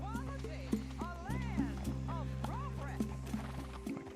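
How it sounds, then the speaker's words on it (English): Horse galloping in Red Dead Redemption 2, a steady run of hoofbeats beneath game music, with a voice heard over it during a timed mission in Chapter 3, The New South. "Get on your horse."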